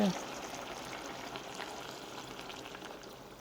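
Rice water pours steadily into a pot for seaweed soup, with a soft, continuous splashing hiss that fades slowly over a few seconds.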